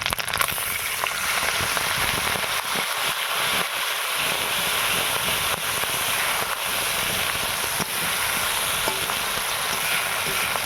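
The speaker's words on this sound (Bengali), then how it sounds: "এখানে কিছুটা আদা বেটে নিয়েছি এটা আমি তেলের ওপরে দিয়ে দেবো" Ginger paste hitting hot oil for a vegetarian cabbage and chickpea curry, giving a loud, steady crackling sizzle that runs nonstop and close throughout, with no voices.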